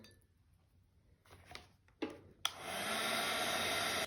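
A hair dryer switches on to dry a watercolor painting, blowing a loud steady rush of air after a few soft clicks and handling sounds, running to the end with no talk.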